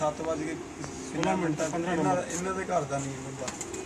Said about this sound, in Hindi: नीलगुंबा कबूतर